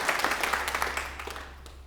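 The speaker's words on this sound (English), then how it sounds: "A big hand, a round of applause." An audience at a 2023 radiography program pinning ceremony breaks into steady applause, dense overlapping claps that hold loud at first and then gradually thin and fade over two seconds.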